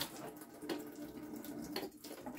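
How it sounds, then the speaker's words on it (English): Blue food-coloured water pours into a plastic milk jug, a steady continuous splashing stream with a few brighter gurgles, close and alone without any talk. "I'll just put a little bit of blue food coloring and water in there."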